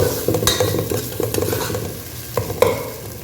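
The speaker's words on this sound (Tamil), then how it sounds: "கொத்தமல்லியும் புதினாவும் அப்படியே போட்டுடலாம்" Fresh coriander and mint leaves hit a frying beef biryani masala, giving a loud, steady sizzle close by with occasional scraping and clinking from stirring, no one speaking.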